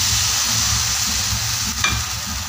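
Wheat flour dhirde batter sizzles steadily on an oiled tava griddle, a loud continuous frying hiss with a brief scrape near the end, no talking.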